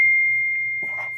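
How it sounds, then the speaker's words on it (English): A mobile phone rings with a steady high electronic tone held for about a second, moderately loud and close, with a soft low hum beneath and a brief rustle near the end. "Do you hear the bell ringing, or is that me?"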